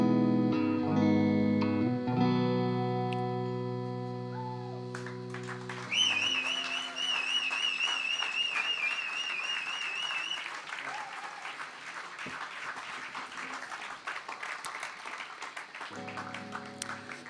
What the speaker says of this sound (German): Der Applaus ist das Brot eines Künstlers